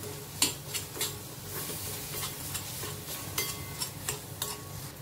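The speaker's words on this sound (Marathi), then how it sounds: "मसाले थोडे परतून घ्यायचे म्हणजे त्याचा कच्चापणा सर्व निघून जातो" Spices and jaggery sautéing in a pan give a low sizzle, with repeated clinks and scrapes of a metal spoon against the pan as they are stirred, close up and with no talk.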